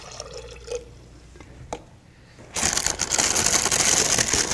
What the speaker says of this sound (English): So I'm going to put about a cup of water